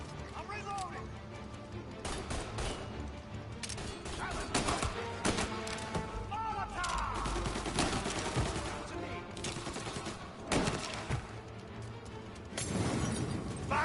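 Gunfire rattles through a Mafia video game shootout, dense bursts of automatic and single shots crackling continuously with sharp louder spikes, mixed under shouted voices of characters.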